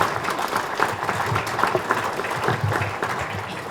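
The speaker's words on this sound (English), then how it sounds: "Let's give our panel a round of applause." An audience at a housing summit claps for a panel of speakers, a short burst of close, dense applause from a roomful of people that holds steady without pause.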